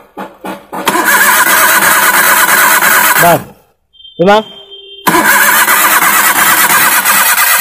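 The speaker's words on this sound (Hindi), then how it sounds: "इसका सेल्फ जो है काम कर रहा है और जो है इंजन बराबर राउंड ले रहा है फिर भी जो हमारी गाड़ी स्टार्ट नहीं हो रही है" A Maruti Suzuki Alto engine cranks repeatedly with a loud, rhythmic starter whir that churns without catching, stopping briefly before a short second crank and then a long sustained cranking burst, with a brief spoken word in between.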